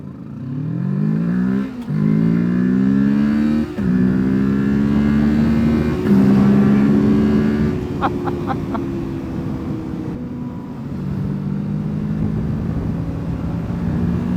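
A Kawasaki Ninja 650 sport bike riding down a coastal road toward twisty sections. Its engine drones loudly and steadily, with pitch rising through several gear pulls and short dips between shifts, plus wind rush throughout.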